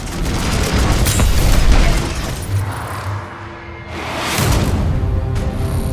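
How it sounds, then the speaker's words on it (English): Salvo Core guided missiles exploding in Titanfall 2, a loud rolling barrage of booms and rumbling blasts that swells, briefly dips, then surges again in a dense continuous wash. "your super ability is the Salvo Core, which are guided missiles that follow where you aim"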